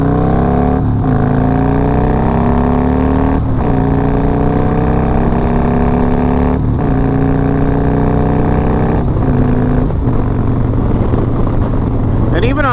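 A big motorcycle engine drones loud and close while riding, its pitch climbing through several gears with brief dips at each shift, under a constant rush of wind.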